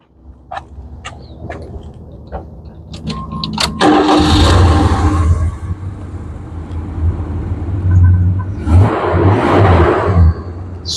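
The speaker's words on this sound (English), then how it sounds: "Let's start her up." A 1979 Chrysler New Yorker Fifth Avenue with a 360 V8 and electronic ignition cranks briefly and catches, then revs up and settles into a smooth, steady idle with a second rev later, recorded nearby.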